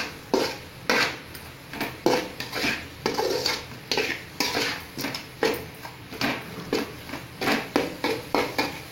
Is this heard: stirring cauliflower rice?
yes